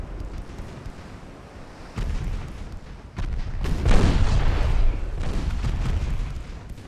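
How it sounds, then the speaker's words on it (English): Naval gunfire from warships in Ultimate Admiral Dreadnoughts, with deep booming salvos that swell into a rumbling roar, heavier rolling blasts building toward the middle and holding loud before easing off. "I'm just gonna sit here and shoot them."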